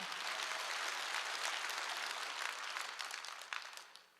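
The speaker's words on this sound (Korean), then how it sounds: "박수야" A congregation at a Wednesday church service claps together in a dense, sustained burst that stays loud and even before tapering slightly at the end.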